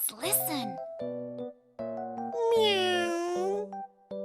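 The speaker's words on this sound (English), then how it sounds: "It sounds like meowing." A cartoon cat gives one drawn-out, wavering meow between chime-like musical notes from a children's knock-knock show, likely voiced by a performer.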